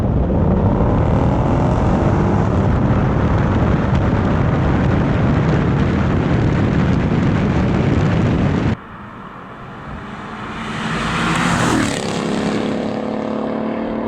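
Tuned BMW M5 Competition and Mercedes CLS63 AMG accelerating hard from a rolling start in Sport Plus, a loud dense engine roar with wind rumble that cuts down, then a car swells and sweeps past nearby.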